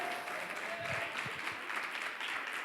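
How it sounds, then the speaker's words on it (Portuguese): Congregation applauding during a Sunday church service, a continuous dense wash of clapping that holds steady throughout. "Aplauda o nome dEle."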